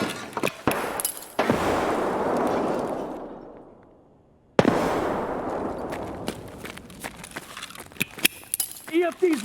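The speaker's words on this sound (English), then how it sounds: "Throwing frag!" A frag grenade goes off in the video game Escape from Tarkov, a sudden loud blast after a stretch of rushing noise and gunfire, with players shouting over the scene.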